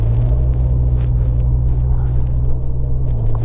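A light Jeep on bald tires drives through snow, a heavy, steady low engine rumble with a constant drone and faint crunching texture above it, close and loud.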